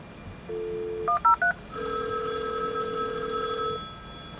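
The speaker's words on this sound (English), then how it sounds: "Since I plugged a phone in, we heard the phone ring too." A telephone plugged into a home lab phone line gives a dial tone and a quick burst of dialing tones, then a steady electronic ring that sounds close and clear with no voices.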